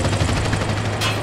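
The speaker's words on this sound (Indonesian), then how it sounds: "Terus tank kita juga bisa ngeledakin musuh lagi." Rapid gunfire from a tank in the video game GTA San Andreas during a Vigilante police mission, a dense burst of loud repeated shots with a brighter blast near the end.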